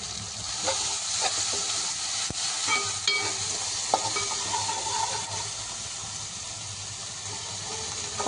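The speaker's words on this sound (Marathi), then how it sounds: "यामध्ये मी अद्रक लसूणची पेस्ट घालते। पेस्ट थोडी परतवली की" Ginger garlic paste sautéing in a pan for street-style pav bhaji, a continuous close sizzle and hiss broken by scraping stirs and occasional spatula clicks, with no talking.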